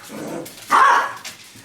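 Several pet dogs bark excitedly at home while gathered around, waiting for food cooked in a crock pot; a burst of barking and yipping rises in the middle, with softer household sounds before and after.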